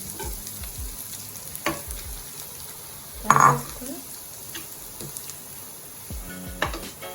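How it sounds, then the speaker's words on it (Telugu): Grated coconut roasting in ghee in a pan for coconut rava laddus: a constant close frying hiss with occasional stirring strokes and a bright clink of a metal spoon against the pan midway. "ఇంకొక 1 స్పూన్ నెయ్యి యాడ్ చేసుకొని ఈ కొబ్బరి రోస్ట్ చేసుకో నీట్ గా ఫ్రై చేసేసుకోవాలి"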